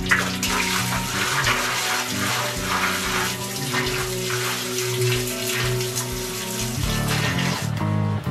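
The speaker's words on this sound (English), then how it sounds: "I'm going to do water changes with manual siphon here and into these buckets, and slowly fill up the tank here." Water pouring steadily into an aquarium tank as it is refilled from buckets, a continuous close splashing rush over a low constant hum, with no talking.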